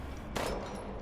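A single gunshot in the video game Resident Evil Village: one sharp burst of moderate loudness over a low background rumble, short and isolated.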